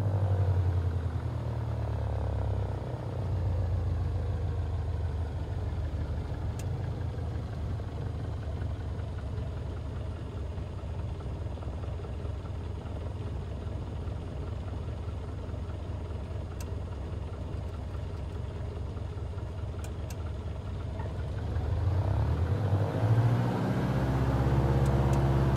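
Steady propeller aircraft engine held at 2000 RPM in Microsoft Flight Simulator 2020, a loud continuous drone with a rough low rumble that runs unbroken throughout and swells slightly near the end.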